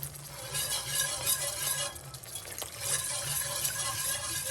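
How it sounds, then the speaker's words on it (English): Milk being whisked into a moussaka sauce off the heat, a continuous swishing and scraping of a whisk in a pan with faint clinks, steady and close throughout. "So we have to continuously whisk."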